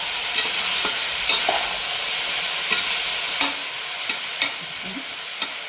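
Tomato and turmeric sizzle and fry in a pan, a steady hiss broken by repeated clinks and scrapes of a spoon stirring.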